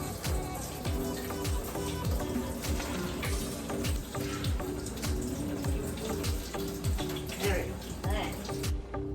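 Warm water pours steadily from a kitchen tap for bread dough, a continuous gushing splash that fills a measuring cup, close and fairly loud, with a few clinks near the end.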